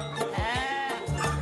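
Farm livestock bleat in a radio advert, a few wavering sheep- or goat-like cries close up over a faint background bed.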